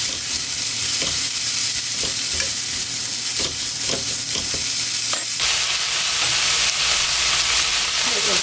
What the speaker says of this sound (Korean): 고추와 양파를 넣고 볶아주는데요